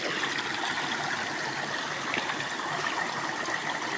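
Stone being washed in a shallow stream, water trickling and gurgling steadily and close by, with faint splashes from handling, no voices.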